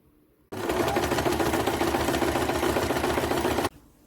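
A sewing machine stitches long gathering rows for a Christmas dress ruffle. One loud, steady whirring run of fast needle chatter lasts about three seconds, then stops abruptly into near silence.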